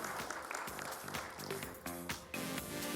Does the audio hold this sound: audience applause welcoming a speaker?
yes